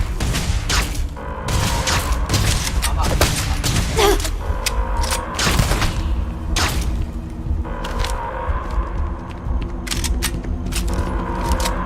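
Gunfire in the Starfield video game, rapid bursts of sharp shots clustered in volleys with short pauses, loud and close, with faint voices now and then.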